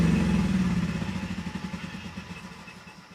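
A generator engine shuts down, its running drone breaking into slowing pulses that fade as it spins to a stop over a few seconds, heard close and alone.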